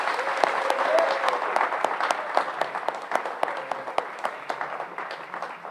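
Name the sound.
audience applause for award recipient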